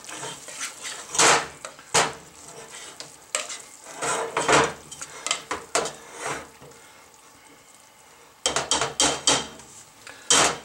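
A spoon stirs meat sauce in a metal pot, giving irregular scraping clatters and clinks against the sides in uneven bursts, with quiet gaps between strokes and a brief pause before a last flurry of stirring.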